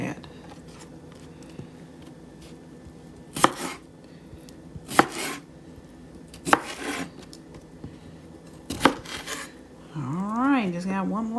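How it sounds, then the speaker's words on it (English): A knife chops vegetables on a cutting board into big dice in four separate sharp strikes, spaced irregularly, with quiet room noise between and a brief rising tonal sound at the end. "just got one more to chop"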